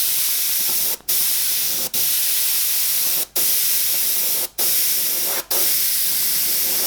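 Airbrush spraying a fine mist of paint for a remembrance-themed design: a loud, close, continuous airy hiss broken by five brief cutoffs where the trigger releases and restarts.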